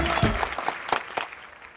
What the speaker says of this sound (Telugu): చప్పట్లు కొడుతున్నాను కదా